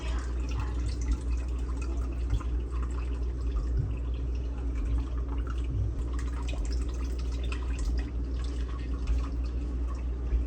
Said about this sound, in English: I'm just gonna let that drain a little bit back into that pot